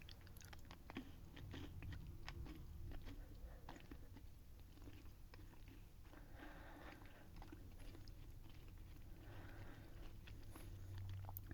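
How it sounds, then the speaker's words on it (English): Hard, sugar-coated grape candy crunches and snaps into pieces during close, slow chewing, with faint, intermittent biting sounds and no talk. "These don't really chew as much as they just kind of break into pieces."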